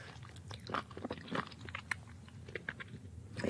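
Wet, crunchy chewing of live octopus in a Korean ASMR eating session, with close-up bites and squelchy mastication clicks repeating irregularly throughout.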